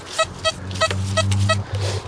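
XP Deus metal detector signalling over targets on a non-ferrous beach: a string of five short, bright, evenly spaced electronic beeps over a low steady rumble.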